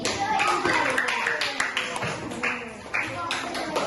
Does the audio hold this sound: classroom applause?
yes